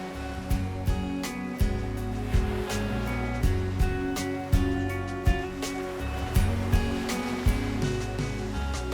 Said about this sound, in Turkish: Atlantik'in dalgaları acımasızca kıyıdaki kayaların üzerinden geçerek yerel halkın hayal gücünü sonsuza dek meşgul eden tuhaf oluşumlar yaratmaktadır